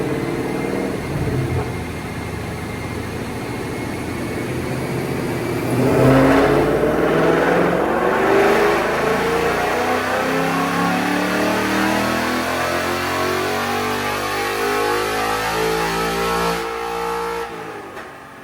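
A 2024 Ford Mustang GT V8 revs hard on a dyno, rising in pitch through a long sustained pull before backing off near the end, loud and close with no talk.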